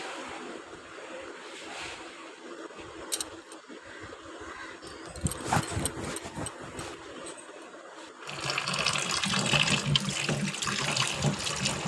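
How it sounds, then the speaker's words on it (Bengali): Cut potatoes are washed under a running kitchen tap, water splashing and gurgling over them with clattering and rubbing that grows into a louder steady gush near the end. "আলুটাই কেটে নিয়েছি, কেটে এবার ধুয়ে নিচ্ছি ভালো করে"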